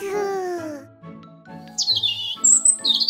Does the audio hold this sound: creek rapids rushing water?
no